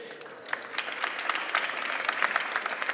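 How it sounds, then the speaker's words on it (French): An audience applauds five panelists at a talk on energy and building renovation, a short burst of dense clapping from a mid-sized crowd, steady and fairly close. "On peut vous applaudir."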